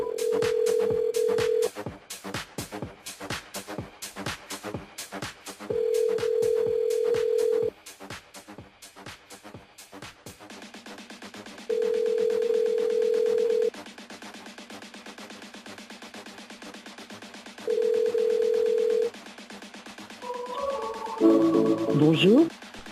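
A telephone call placed live on a radio show rings out: a long ring tone repeats four times at steady intervals over clicking, busy background sound, ending in a short run of higher beeps.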